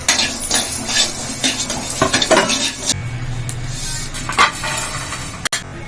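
Peanuts, coriander seeds and cinnamon roast in a pan, with scraping stirs, light clinks of a utensil against metal and a soft dry sizzle, heard close and busy before settling into a quieter hiss.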